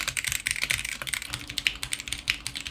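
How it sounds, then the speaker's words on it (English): Fingers type on a Gamakay K61 mechanical RGB keyboard, producing a rapid, close stream of crisp clacky keystrokes in an uneven rhythm with no pauses long enough to break the flow. "This is the Gamakay K61 mechanical keyboard."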